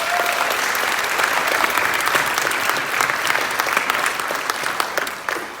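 Sustained applause from a school auditorium audience after a middle school band's spring concert, dense steady clapping that holds at full volume throughout with a faint background murmur.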